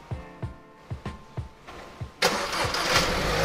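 A Kia Sportage 2022 engine fires up by remote start after a run of regular clicking relay ticks, then settles into a loud, steady idle nearby.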